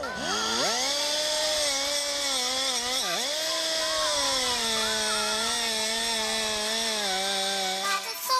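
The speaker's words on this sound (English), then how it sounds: "we grinded off all the rivets" An angle grinder cuts off rivets on a Silverado truck bed during a long-bed to short-bed conversion: a loud, steady high-pitched whine with one brief pitch dip as the disc bites, running continuously and up close.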